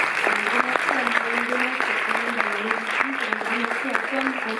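An audience applauds in a Paris cinema after a screening and a talk with a filmmaker. The clapping is loud, dense and sustained throughout, and someone speaks over it.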